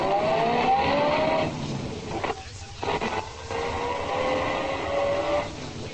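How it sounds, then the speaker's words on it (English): A car drives along as a sound effect in a 1948 radio detective drama: a steady engine drone with a faintly rising tone, briefly dipping and stuttering midway before settling back into a smooth run. "Half an hour later, Dawson and I were riding uptown."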